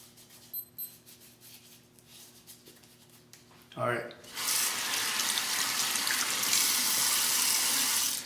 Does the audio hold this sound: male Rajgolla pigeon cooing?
no